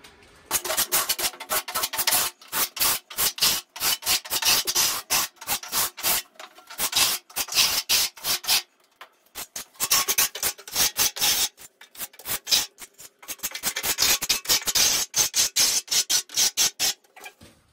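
A trowel scrapes the second coat of microcement onto a bathroom surface in close, rhythmic strokes, loud rasping passes in bursts separated by short pauses, with no talking.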